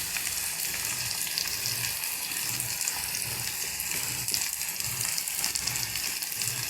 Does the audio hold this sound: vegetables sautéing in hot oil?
yes